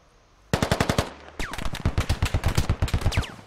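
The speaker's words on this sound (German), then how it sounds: "Warte, bis der Striker zurückkommt, dann schieße ich." Automatic weapon fire in the military shooter game Squad: a loud, rapid burst of evenly spaced shots, a short pause, then a longer sustained burst with bright metallic ring-outs between rounds.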